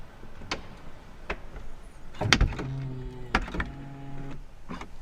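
A BMW car door swings shut with a gentle soft-close, muffled thud, followed by faint mechanical whirring and a few soft clicks in a quiet interior.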